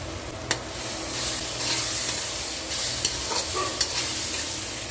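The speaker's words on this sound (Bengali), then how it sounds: "পেঁয়াজটা ভালোভাবে ভাজা হয়ে এসছে, এবার এর মধ্যে আমি রসুনটা দিয়ে দেবো।" Garlic tossed into well-fried onions in a pan for a cheese chicken recipe, stirred with soft continuous sizzling and a few sharp scrapes of the spatula against the pan, close and moderately quiet.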